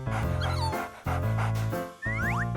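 A small dog yips and whimpers in high, wavering bursts during a bath, three close cries separated by short pauses.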